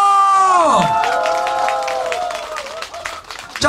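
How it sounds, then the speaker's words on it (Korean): Festival crowd applauding and cheering for a performer, a rising burst of clapping and shouts that follows a sustained sung tone and keeps going loud and dense. "한번 연습하겠습니다. 박수와 함성."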